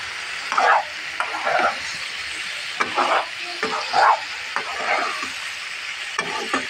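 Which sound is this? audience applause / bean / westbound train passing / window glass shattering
bean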